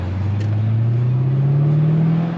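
A 2022 Dodge Durango SRT 392 V8 engine revving while driving on a highway, a loud, close, deep drone that rises steadily in pitch as it accelerates, with no talk.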